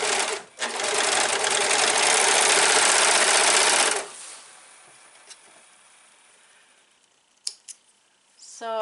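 Sewing machine stitching a dress seam runs in a loud, steady burst for about four seconds near the mic, then stops, leaving quiet room tone with a few light clicks.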